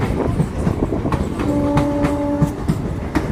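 A train near Suryapur rolls past close by with loud rhythmic clickety-clack from the wagons, and a brief steady horn sounds midway.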